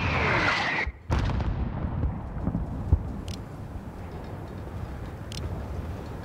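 Mortar fire in a Call of Duty battle: a sharp whistling shell and a sudden blast near the start, then scattered distant thumps and impacts over a low rumbling battlefield backdrop.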